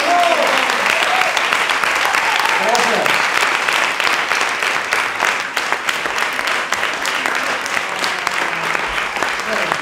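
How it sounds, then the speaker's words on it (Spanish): A collective round of applause at an open community forum, many hands clapping loudly and continuously, with voices cheering near the start before the clapping settles into a steady roar. "el hacer un aplauso colectivo por todas las luchas en las que estamos"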